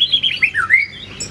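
A white-rumped shama sings a quick, close run of bright, varied whistled phrases that rise and fall in pitch, with short squawky notes mixed in.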